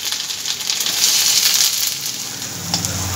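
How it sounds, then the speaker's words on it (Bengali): Chopped onions fry in a pan with a steady, loud, hissing sizzle that swells in the middle and runs on without a break. A few faint stirring scrapes sound under it, and no one speaks. "পেঁয়াজটা হালকা করে ভেজে নিয়েছি"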